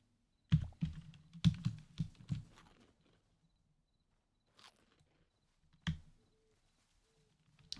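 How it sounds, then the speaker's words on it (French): Computer keyboard keys clacking close to the microphone in scattered bursts of a few quick strokes, then long quiet gaps and isolated taps. "mon micro il va trop capter les bruits du clavier"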